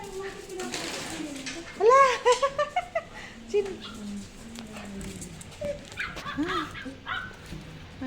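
Dogs giving a burst of short, high yelps and whines, then quieter whimpers, amid people chatting nearby.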